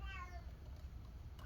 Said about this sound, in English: my cat's like